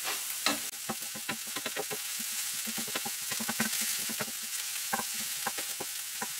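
Bell pepper sizzling steadily in a frying pan over medium heat, with repeated scraping stirs of a utensil against the pan; close and continuous, with no talking.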